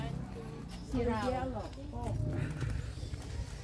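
A white horse's hooves clip-clop at a steady walking rhythm under people talking in Cebu City, with background noise throughout.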